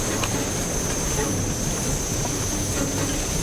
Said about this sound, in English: I apologize for the jet engine sound.